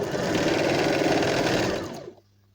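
Sewing machine runs steadily stitching a hem on fabric, a loud close whirring rattle for about two seconds that slows and stops, leaving near silence.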